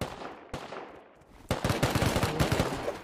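Gunfire in the survival game Rust: a sharp shot near the start, then a rapid burst of loud, close shots in quick succession through the second half, with no talk.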